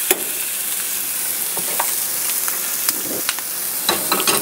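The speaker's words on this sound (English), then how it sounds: "grab your patty. That thing's kind of frozen, so we may not be able to smash it too good." A frozen hamburger patty fries on a griddle at a campsite, giving off a loud, continuous sizzle with scattered sharp pops and spatters close by.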